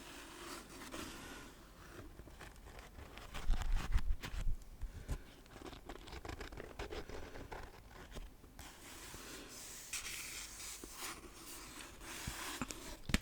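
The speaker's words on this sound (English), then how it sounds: "I love page turning sounds." Soft paper rustling and flipping, like pages of a book being turned close by, quiet and intermittent with small scrapes and brushes.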